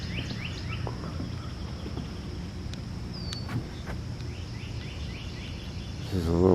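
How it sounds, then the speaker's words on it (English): Scattered bird chirps and calls at night by the St. Johns River in Palatka, Florida, over a dim outdoor hum, with faint insect trilling, a few brief sharp notes, and a swelling rush near the end. "I capture the bird sounds."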